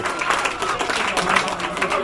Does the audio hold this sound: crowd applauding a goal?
yes